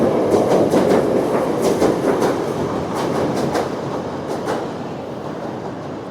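An elevated metro train in Chicago rumbles past on the tracks with a steady roar and rhythmic clickety-clack of wheels over rail joints. The train is fairly close and continuous, fading slightly as it goes, with no talking.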